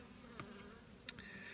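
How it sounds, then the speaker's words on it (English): Honey bees in a hive box give off a very faint, steady low hum with a couple of brief higher buzzes passing close by, and no voices. "Basically a box full of bees."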